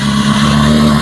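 A Honda FCR600 motorcycle engine revving during a charging check, a loud, steady, close-up mid-pitched drone held at raised revs throughout the short burst.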